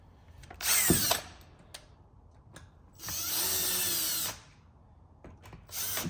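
Power drill or driver running down bolts on an Echo 2511 muffler, three close whirring bursts of about a second each separated by quieter handling clicks.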